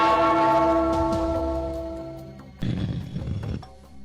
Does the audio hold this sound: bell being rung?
yes